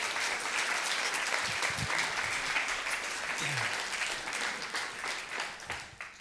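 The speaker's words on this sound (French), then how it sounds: "Applaudissements" A festival audience at the Ciné-Mantes film festival applauds, a dense even wash of clapping that carries steadily and tapers slightly near the end.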